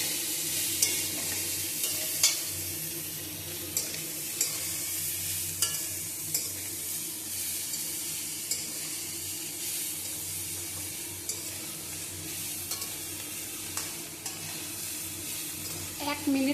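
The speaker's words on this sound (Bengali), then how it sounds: "এটা দিচ্ছি আমি ধনে গুঁড়ো একটু, আর এটা যাচ্ছে জিরে গুঁড়ো। আর একটু নাড়াচাড়া করে নেব।" Ground coriander and cumin stirred in hot oil in a pan for a bean curry, a soft continuous sizzle with regular scraping clicks of the spoon, close up and without speech.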